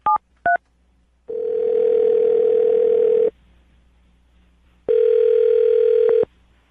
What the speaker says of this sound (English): I'm going to dial the phone number right now, get him on the phone